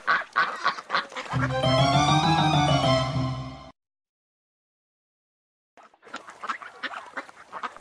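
A voice imitates a duck's quacking in a children's ugly-duckling story, a sustained, loud, nasal honking call that follows talk, then gives way to silence before speech resumes.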